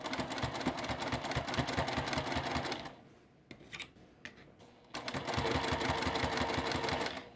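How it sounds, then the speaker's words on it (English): Sewing machine back-stitching through the layered ends of a quilt binding, a fast, steady mechanical chatter that runs loud, drops out briefly with a few soft clicks and handling noises, then resumes. "I will do a back stitch again, removing my clips as I need to, making sure everything is getting sewn down nicely and tidily"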